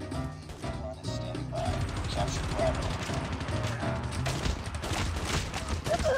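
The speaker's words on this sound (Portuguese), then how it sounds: "Para de atirar em mim, Manel, eu sou do seu time." Gunfire in the Call of Duty Mobile video game plays as dense, continuous rattling shots and clanks throughout, with a player talking over it.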